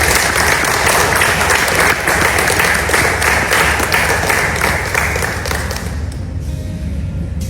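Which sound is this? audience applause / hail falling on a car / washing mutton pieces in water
audience applause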